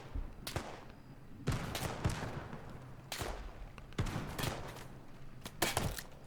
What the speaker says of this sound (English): let's call in some mortars